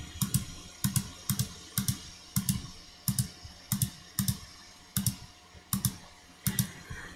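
Clicks and taps on a restaurant point-of-sale system while ringing in an order, about a dozen evenly spaced sharp key presses at close range, quiet and alone in a still room.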